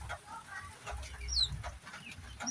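Hen clucking with her chicks in a backyard brooder coop, soft repeated fowl calls close by with small chirps and low rustling, no talking.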